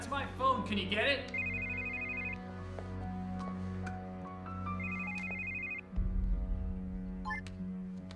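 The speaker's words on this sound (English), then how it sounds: "That's my phone." A telephone rings in a quiet room with a repeating electronic trill, two clear bursts a few seconds apart, while voices talk over it and a low hum runs underneath.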